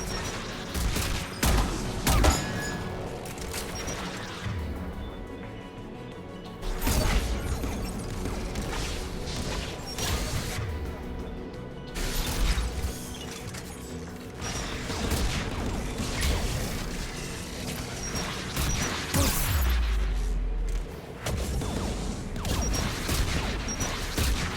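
Mass Effect 3 tower defence guns fire in a dense, continuous barrage with heavy booms and crashes all the way through, loud and busy, with no speech.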